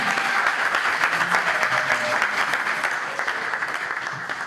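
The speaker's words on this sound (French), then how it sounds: "Nous acclamons très fort notre Seigneur." A church congregation applauds loudly and steadily at an evangelical gathering, dense continuous clapping filling the room throughout without letting up.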